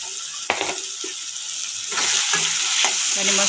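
Tomatoes with a pinch of salt fry in a pan alongside chicken liver, a steady close sizzle with occasional stirring scrapes and utensil knocks against the pan.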